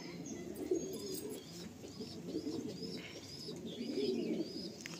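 Repeated gentle cooing from bloodline pigeons close by, soft throaty pulses that swell and fade over a quiet background with faint chirps and no speech.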